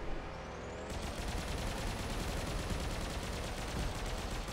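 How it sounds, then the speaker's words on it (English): Sustained machine gun fire in the combat racing game Grip, a loud unbroken rattle of rapid shots over a roaring engine drone, continuing steadily for several seconds. "right now I have a machine gun, so I could use it on this guy"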